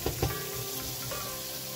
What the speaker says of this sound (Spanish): Vamos a dejar que se sofría unos 2 minutos para que liberen todos sus sabores